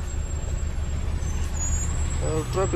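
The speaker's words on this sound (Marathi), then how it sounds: "त्याच्यात ट्रॅफिक लागलेलं आहे मोकार" Heavy road traffic with trucks: a steady low engine drone and broadband roar, with faint high whines and a few brief honks or hisses near the end.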